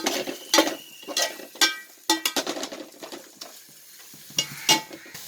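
Crab pieces hit a hot curry pan with a burst of sizzling, mixed with metal spoon scrapes and clanks from stirring, coming in uneven bursts and pauses, close and moderately loud, with no talking.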